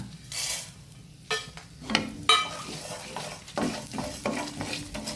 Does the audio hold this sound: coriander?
yes